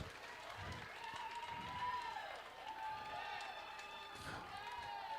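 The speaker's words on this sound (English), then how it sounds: "Let's give him a big round of applause." Crowd applause and cheering at a wedding reception after a dance performance, steady clapping with voices mixed in, heard from within the room at moderate distance.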